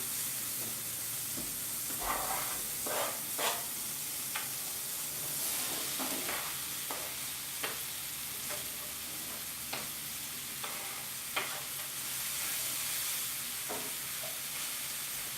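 Habanero and eggplant sizzle steadily in coconut oil in a pan, a constant frying hiss broken by scattered stirring clicks and pops, close and without talk.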